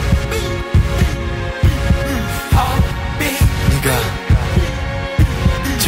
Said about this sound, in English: feel my heartbeat.